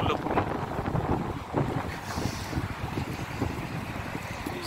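Strong, cold wind blowing outdoors during a walk in Canada, a steady broadband roar buffeting the microphone close up with gusty surges throughout and no other clear sounds.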